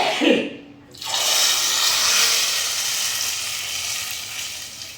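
Spices for tempering hit hot oil with a sharp, loud hiss that starts after a brief quiet moment and then holds as a steady sizzle close by.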